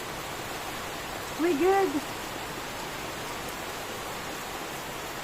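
Heavy typhoon rain pours down in a constant, even hiss of water that carries on throughout, while a voice briefly exclaims partway through.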